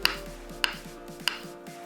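Half a large block of tofu is sliced into 1 cm strips on a cutting board, three evenly spaced crisp knife knocks about half a second apart over a faint steady background hum.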